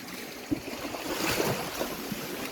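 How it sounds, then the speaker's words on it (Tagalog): Surf surges and washes continuously at high tide on the shore, a broad rushing roar of water with small splashes breaking through, no voices. "Malakas pa ang alon."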